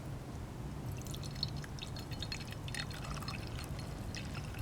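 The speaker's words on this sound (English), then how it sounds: "I always hear people say that the pouring sound is very" Tea is poured into a cup, making a faint, continuous light trickle with small dripping splashes over a low steady background hum.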